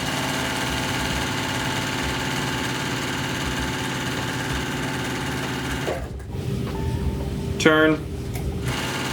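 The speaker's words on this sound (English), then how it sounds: "I'm gonna sew all the way around my square." Sewing machine stitching around a square of fabric, a steady motor whir with rapid needle rhythm running for about six seconds, then stopping briefly before a short burst of stitching resumes; a voice speaks briefly.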